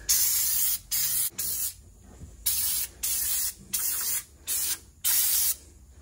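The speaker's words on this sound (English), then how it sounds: "It's some cheap degreaser." Cheap degreaser sprayed from a spray can while working on a Miata's steering: loud, close hissing bursts of about half a second to a second each, repeated in an uneven rhythm with short gaps between.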